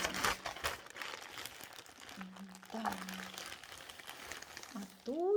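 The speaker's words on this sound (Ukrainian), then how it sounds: "відкриваємо пакетик і дивимося, що тут замовлено" Close crinkling and rustling of plastic packaging, with intermittent crackles, a brief tonal squeak, and faint voice sounds in the background.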